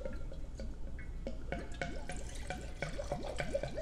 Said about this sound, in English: If you listen to the decanter, you're going to hear it cluck a little as it forces air through.